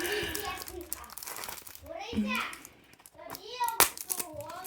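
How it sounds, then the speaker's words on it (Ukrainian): Children chatter in the background of a room while someone speaks nearby, with crinkling packaging and handling noises over the voices. "У мене діти на задньому фоні."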